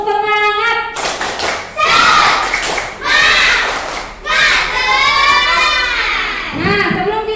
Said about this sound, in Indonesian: tepuk semangat dulu untuk kita semua sebelum diskusi.